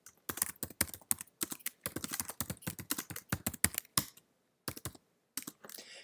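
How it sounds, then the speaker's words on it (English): Fast typing on a computer keyboard, with crisp close key clicks in rapid irregular runs, a couple of short pauses, then a few final taps. "and then I can begin typing."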